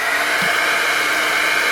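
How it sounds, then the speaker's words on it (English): A heat gun warms glue on a craft project with a steady, close blowing whir that stays constant and even throughout, with no talking. "And now you can heat gun this for good."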